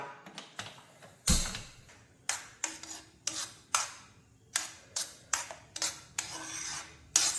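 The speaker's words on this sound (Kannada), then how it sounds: "ಈಗ ಇದನ್ನು ಗ್ಯಾಸಲ್ಲಿ ಇಟ್ಟು ಬಿಸಿ ಮಾಡೋಣ." A spoon stirs a mango and sugar puree in a pan on a gas stove, giving repeated sharp scraping strokes in an uneven rhythm, up close, with quiet gaps between them and no talk.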